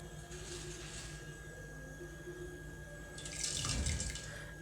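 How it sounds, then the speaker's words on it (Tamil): Two short pours of water splash into a pot, the second louder and fuller, over a quiet steady background hum. "ரெண்டு சொம்பு தண்ணி சேர்த்துக்கலாங்க இந்த சொம்பில் தான் நான் ரெண்டு சொம்பு தண்ணி சேர்த்துருக்கேன்"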